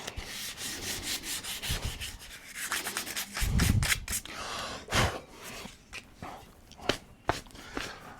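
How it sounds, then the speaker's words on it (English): Rhythmic rasping strokes of sandpaper on a wooden axe handle, close and steady, with occasional louder scrapes and bumps. "Finish up sanding."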